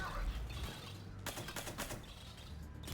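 Rapid bursts of gunfire from the Mass Effect 3 video game, clustered cracks and rattling shots through the middle of the stretch over a steady low game hum, with no talking.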